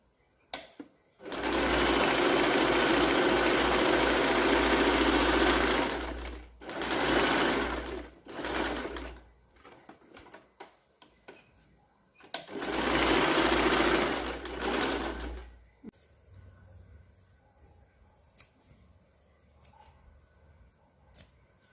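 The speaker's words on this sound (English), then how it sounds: "The other side I am stitching now." A sewing machine stitches along a blouse neckline in three loud bursts of fast, close motor whirring, separated by short pauses, then falls to quiet handling sounds.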